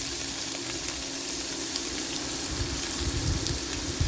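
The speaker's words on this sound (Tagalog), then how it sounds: "pag medyo ma-brown na yung bawang, ilalagay na natin ang ating giniling" Ground pork frying in a pan with browned garlic, a steady close hiss and sizzle that runs throughout and swells slightly with some crackling near the end.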